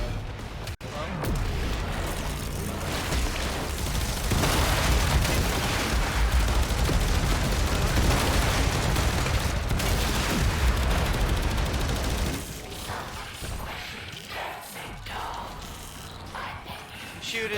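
Dense, continuous gunfire and explosions from a fight against the Profit-Taker boss in the sci-fi shooter Warframe, heard under game effects and a talking voice, then easing off near the end.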